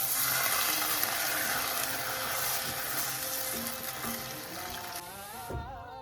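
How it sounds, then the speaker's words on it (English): Water poured into a hot Le Creuset pot of chili and yak fermented cheese soup sends up a loud, steady sizzle and bubbling hiss that runs close and continuous before easing off near the end. "Okay, I'm going to add water."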